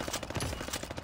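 Rapid automatic gunfire from Call of Duty Vanguard on the Champion Hill mode, a steady close rattle of shots filling the whole second without pause.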